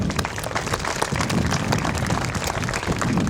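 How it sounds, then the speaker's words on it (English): Audience applause for two new Australian citizens at an Australia Day citizenship ceremony in Naracoopa, King Island, a dense, steady patter of many clapping hands held at an even level throughout, with no voices above it. "Let's give them another round of applause"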